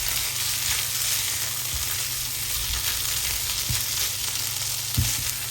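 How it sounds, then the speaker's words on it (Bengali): Pumpkin pieces fry in a little oil in a pan with a steady close sizzle and a few soft clicks of stirring, with no talk. "মিষ্টি কুমড়াটা ভাজা হয়ে যাচ্ছে"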